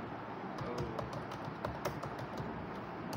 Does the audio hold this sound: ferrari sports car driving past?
no